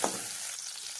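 Small onions sauté in hot oil in a pan for a radish chutney, a brief, bright, steady sizzle heard close up with no voice over it.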